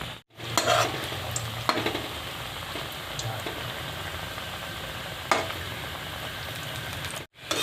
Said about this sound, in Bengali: এইভাবে আমি সব কটা এইভাবেই ভেজে নেব